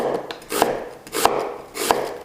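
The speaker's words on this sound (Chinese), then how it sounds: "再切成小碎丁。" A knife chopping half an onion into small dice on a cutting board, three crisp, evenly spaced chops with soft scraping between them, close and clear.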